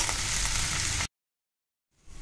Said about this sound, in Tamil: எண்ணெய் சூடானதும் கருவேப்பிலையும் வெங்காயத்தையும் நறுக்கின வெங்காயத்தையும் போட்டிருக்கேன்.